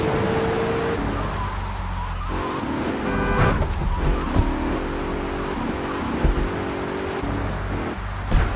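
Car engine idling in Grand Theft Auto 3: Definitive Edition, a freshly repaired junk heap of a car, with a steady low rumble throughout, game music layered on top and a couple of brief thumps.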